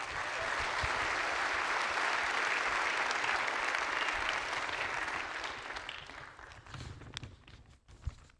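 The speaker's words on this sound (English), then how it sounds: "another round of applause for Alyssa," Audience applause at an architecture awards ceremony, a broad sustained wash of many hands clapping that holds steady, then thins and tapers to a few scattered claps.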